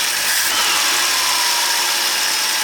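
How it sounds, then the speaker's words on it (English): A Ford 300 six-cylinder engine revs gently in a 1954 International R100 truck, giving a steady, loud broadband roar with no talk over it. "Give it a little throttle, rev it up a little bit, not super high, just a little."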